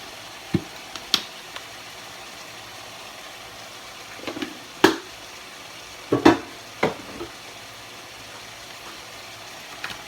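Ground meat with cumin and salt cooking in a pan for chiles rellenos, a low steady frying hiss broken by several sharp scrapes and clanks of a utensil stirring, close by with no talk.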